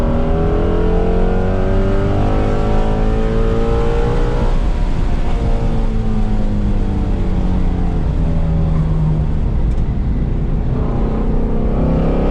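Car driving a track session, its engine droning loud and steady throughout with rising and falling harmonic sweeps as it accelerates and shifts, plus constant wind and road roar, no voices.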